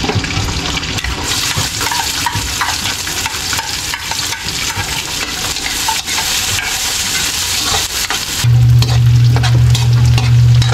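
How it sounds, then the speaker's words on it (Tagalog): Garlic and onion fry in hot oil in a wok for pinakbet, giving a loud, steady sizzle with stirring scrapes throughout and a brief low hum near the end. "Mainit na po yung kawali natin. Mantika. Ayun, bawang sibuyas."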